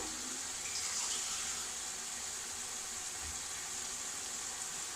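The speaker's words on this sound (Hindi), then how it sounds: "अब हम इसमें हल्का सा जो है वो पानी ऐड करेंगे।" Water pours into a pot of vegetable pulao with potatoes, a steady faint hiss and trickle running continuously for several seconds without talk.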